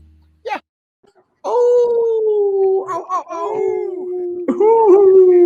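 People imitate a dog howling, long wavering vocal howls rising and sliding in pitch for several seconds, close and loud, with a brief exclamation before.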